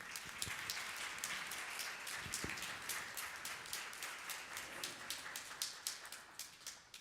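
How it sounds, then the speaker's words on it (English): An audience at a church Lenten soup supper applauds to welcome a guest speaker, with steady, dense clapping that runs for the whole stretch and rises in a few sharper bursts toward the end. "please give a warm round of applause"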